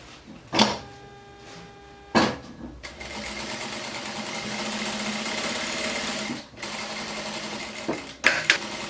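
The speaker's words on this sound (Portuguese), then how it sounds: "vou passar uma costura aqui" Close and loud, a sewing machine runs a long continuous seam across a waterproof fabric kitchen apron. It is framed by clicks and handling knocks before the stitching starts and after it stops.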